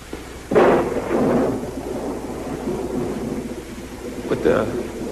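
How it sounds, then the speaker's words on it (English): Thunderstorm with rolling thunder and steady rain: two loud low rumbles, one near the start and another near the end, over a continuous wash of rain, with a voice speaking briefly. "like the storm's getting worse."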